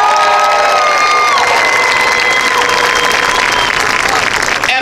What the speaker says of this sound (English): Please join me in giving another round of applause for DeLone Catholic.